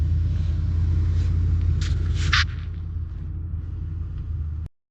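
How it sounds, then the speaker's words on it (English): A hybrid car runs with a steady, close low rumble for several seconds, easing slightly past the midpoint before cutting off abruptly; no one speaks. "Now this car is running pretty good."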